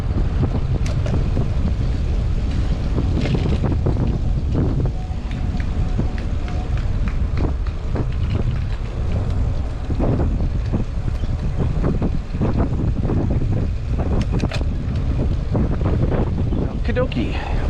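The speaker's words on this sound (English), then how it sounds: "It's definitely breezy" Heavy wind buffets the microphone throughout a ride along a bike path on a Trek Domane AL 2 road bike, producing a constant roar with gusty thumps. The wind is loud and close and goes on without a break.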